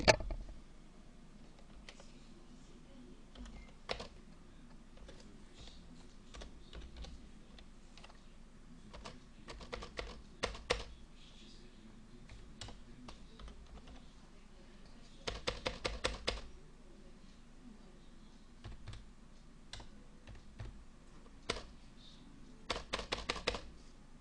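Clattering keystrokes on a computer keyboard while entering text into a spreadsheet cell, coming in short bursts of quick taps separated by pauses, close and fairly quiet against a soft background hum.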